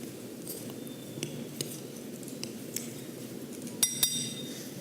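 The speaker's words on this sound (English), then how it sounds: "I'm just going to stir this all together." A spoon stirs flour into a sticky molasses dough mixture, giving light scraping and scattered thin clinks against the bowl, with a pair of sharper clinks near the end; no voices.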